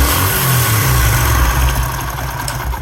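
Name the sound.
motorcycle engine revving during ignition timing check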